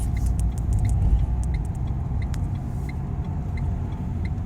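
A car driving on a driving-test practice route in second gear, a steady low rumble of engine and road noise from inside the cabin with faint clicks, no talking.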